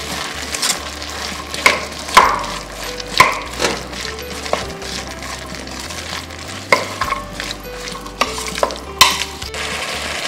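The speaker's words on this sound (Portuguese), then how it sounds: "Vou mexer um pouquinho." Chopped chayote with pimenta de cheiro and black pepper sautéing in a pan, stirred with a spoon that knocks and scrapes against the pan in irregular strokes over a steady close sizzle.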